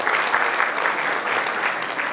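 An audience at a Republic Day celebration at a university claps enthusiastically, a dense and steady burst of applause with no voices over it.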